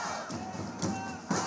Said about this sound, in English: Protesters chanted and drummed, creating a colourful and powerful scene in the city square